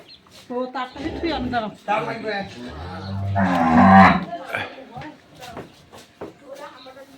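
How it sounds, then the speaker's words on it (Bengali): A crossbred cow gives a long, low moo close by while people talk over and around it, at a home in Dinajpur. "আমরা দেখি এখানে আরেকটি গরু আছে"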